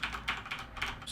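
Typing on a Corsair K95 Platinum keyboard, a quick run of soft, muffled key clicks close to the microphone, fairly quiet and alone.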